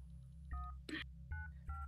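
Telephone keypad tones while dialing to order a pizza, four short beeps in quick sequence with a brief rustle between, faint and close, over a low hum from an Among Us game.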